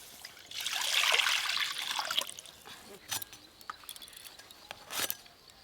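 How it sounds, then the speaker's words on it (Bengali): Water pours into a kadai on a stove to boil eggs, a broad trickling splash that builds loudly in the first two seconds and then thins to scattered drips and small splashes. "ডিম সেদ্ধর জন্য প্রথমেই কড়াতে জল দিয়ে দেব"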